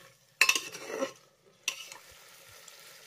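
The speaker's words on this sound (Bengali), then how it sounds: "এঁচোড়টাকেও এবার মশলার সঙ্গে আমি প্রায় 2 মিনিটের মতো এইভাবে মিডিয়াম ফ্লেমে কষিয়ে নেব" Young jackfruit, fried earlier, stirred with spices over a medium flame: two bursts of spatula scraping and sizzle, the first longer, then a quiet low simmer.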